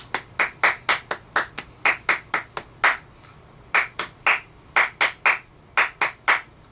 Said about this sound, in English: Just clap the rhythm